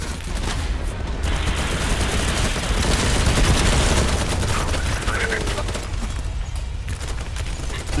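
LMG fire in Battlebit rattles in long, sustained automatic bursts that run nearly unbroken, loud and close, with a voice talking over it.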